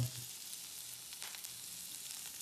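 Curry leaves and chillies fry in a pan, producing a faint, even hiss of sizzling oil with a few soft crackles, heard alone without speech.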